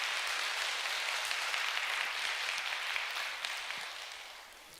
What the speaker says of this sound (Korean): 다시 한번 감사의 박수를 올려드리겠습니다